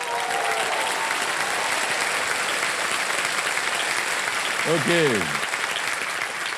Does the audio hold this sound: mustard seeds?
no